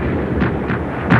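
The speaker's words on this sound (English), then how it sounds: "Russian artillery and machine guns, firing on a flat trajectory, blazed all the while" Russian artillery and machine guns fire on a flat trajectory during the Battle of Berlin: a continuous rumbling barrage with a few sharper booming bursts, loud and with no talk over it.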